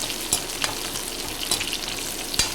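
Four halved dried red chillies fry in a pan with a constant sizzle, while a spoon scrapes and taps against the pan at irregular intervals.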